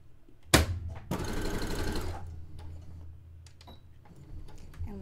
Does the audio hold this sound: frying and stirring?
no